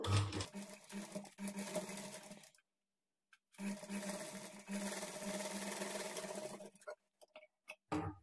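A sewing machine stitches a 1/4 inch margin on a doubled lehenga blouse fabric edge for a child's top, running in two long steady bursts separated by a silent pause, then a few short stops and starts.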